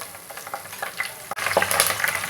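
Curry leaves go into hot oil with frying peanuts for cabbage pulao, giving a bright crackling sizzle that swells sharply partway through and stays loud with spattering pops, close by and free of talk.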